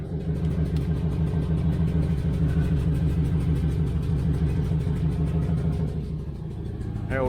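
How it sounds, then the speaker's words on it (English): A 1994 GMC Stepside pickup truck's engine runs close by with a loud, deep, throbbing idle, swelling slightly as it is revved and easing off near the end, no voices. "here, we'll rev it up a little bit some more."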